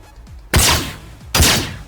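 Ship guns in the space game Star Citizen, fired from a small Mustang fighter: two loud, sharp bursts about a second apart, each hitting suddenly and then trailing off in a rushing decay.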